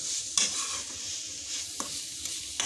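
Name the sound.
stirring vegetable momo filling in a pan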